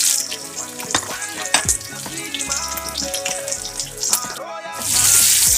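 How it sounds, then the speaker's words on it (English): Onions sizzling and crackling in hot oil for Nigerian jollof rice, with clinks of a utensil, then a louder burst of sizzling near the end; no one speaks. "This is the onion frying."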